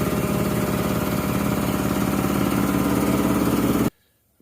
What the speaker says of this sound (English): Very, very excited to have a proper compressor in the shop.